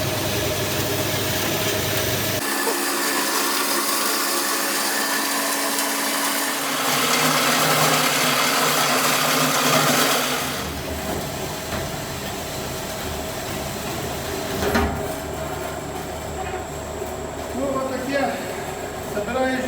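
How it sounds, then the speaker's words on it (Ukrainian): A power saw grinds steadily through a steel blank for a spatula, a loud, continuous, harsh whine that shifts in pitch and intensity partway through the cut, with some background noise throughout. "така штука хороша ця пила"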